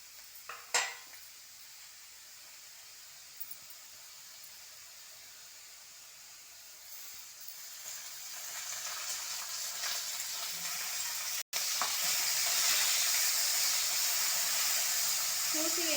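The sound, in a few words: green chillies frying in a pan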